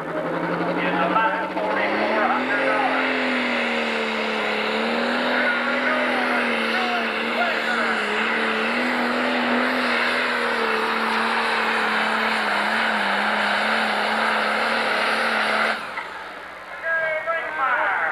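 A turbocharged 12,000 lb Pro Stock pulling tractor roars at a 1997 tractor pull in Kankakee, Illinois, its engine note climbing and holding loud and steady for about fifteen seconds before cutting off.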